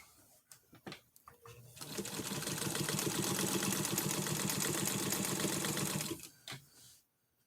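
A sewing machine stitches along an old, worn sheet being mended, running in one steady rapid whir for several seconds, close and fairly quiet, with a few short clicks and handling sounds before and after.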